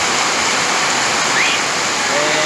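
Steady, dense rain hisses without a break at Tikal, Guatemala, a close wash of water noise with no voices.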